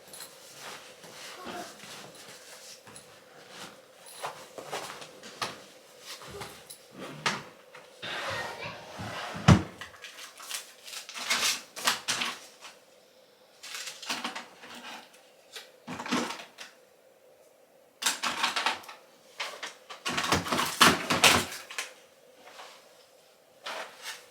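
Cupboard drawers are opened and emptied at home while someone packs to move: irregular bursts of wooden sliding, knocking and rummaging, spread over the stretch between quieter pauses, with some faint speech.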